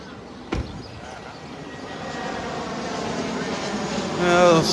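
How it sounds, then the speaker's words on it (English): A private jet passes overhead on approach to Naples Municipal Airport along a beach, a steady rising jet roar building over the surf and wind, swelling loudest near the end, with a sharp knock early on. "Some of the poor folks flying in on their private jet"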